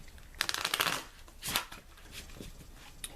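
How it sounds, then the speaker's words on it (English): A deck of tarot cards being shuffled by hand, with two distinct riffling bursts of crisp, papery flutter up close, separated by quieter handling noise. "I'm feeling ready to shuffle one more time"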